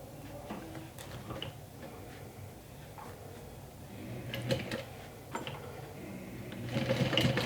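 A sewing machine stitches a swim tote in short, uneven runs, with rhythmic ticking needle clatter and small clunks up close, growing busier and louder toward the end.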